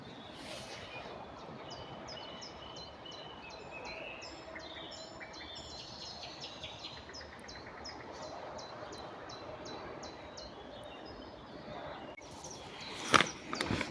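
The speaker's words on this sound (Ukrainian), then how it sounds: "Ой, птахи слухала би" Birds sing and chirp in a forest after rain, a steady series of short repeated calls carrying over a soft ambient background, with a louder thump or rustle near the end.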